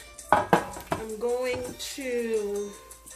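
A baking dish clatters on a kitchen counter in a couple of sharp knocks near the start, followed by a person talking in a home kitchen while the oven heats.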